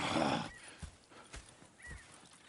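Horses in the video game Red Dead Redemption 2 give a brief neigh, followed by slow, soft clip-clop hoof steps and a snort against quiet outdoor ambience.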